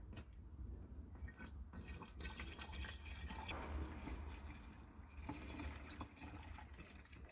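Water-methanol is poured into the reservoir of an AEM V3 water-methanol injection kit on a MK4 GTI 1.8T, making a steady close trickle and splash that runs the whole time, with a few small knocks and no talking.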